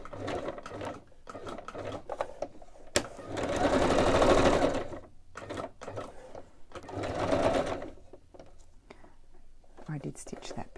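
Short bursts of a sewing machine stitching a craft tag come in between quiet, close talk, with two longer runs of stitching standing out.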